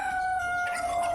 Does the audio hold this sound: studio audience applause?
no